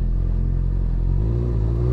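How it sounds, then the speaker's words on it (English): A Ferrari pulls away nearby, its loud, deep engine rumble swelling and rising in pitch as it drives off, with no talking over it. "Oh man, the Ferrari pulled off."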